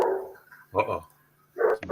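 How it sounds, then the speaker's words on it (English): A pet dog barks in a home during a horse race broadcast, giving two short bursts of barking, one in the middle and one at the end, with someone talking faintly before them. "That's my dog."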